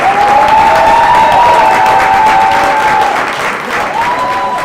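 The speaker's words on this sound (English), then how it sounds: "please give a round of applause for our keynote speaker, Lawrence Hamm." An audience at the 29th Annual MLK Luncheon applauds the keynote speaker with loud, dense, sustained clapping, and cheering voices ride over the top before the applause eases slightly toward the end.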